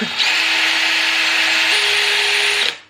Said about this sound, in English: You can't whisk food with a power tool.